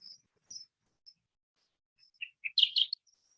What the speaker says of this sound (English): Extra points if you recognize different bird species in the background of these recordings.